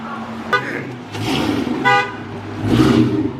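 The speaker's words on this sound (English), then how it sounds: "Why you beeping the horn?" Car horn honks several times in short bursts, nearby and loud, over a rumbling engine at night near a marina.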